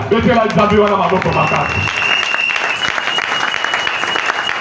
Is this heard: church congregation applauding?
yes